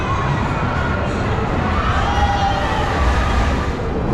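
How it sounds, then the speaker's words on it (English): Riders screaming on a Zamperla Disco spinning ride inside an indoor amusement park, a loud continuous wash of crowd noise and distant shrieks with the ride's rumble beneath. "Somebody's having a good scream on there."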